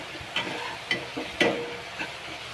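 Asafoetida (hing) and a little coriander dropped into softened tomatoes in a hot pan, giving a close, steady sizzle broken by a few sharp stirring scrapes.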